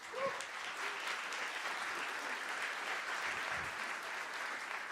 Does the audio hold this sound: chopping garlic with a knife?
no